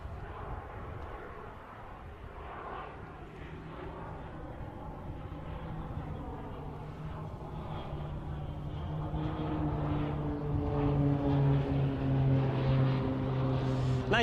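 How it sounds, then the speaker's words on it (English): At an airshow, an aircraft flies back past with its landing gear extended; a faint engine drone with a steady hum grows gradually louder as it approaches. "But the aircraft coming back now, and I think we'll see as it comes towards us, the landing gear will have been extended."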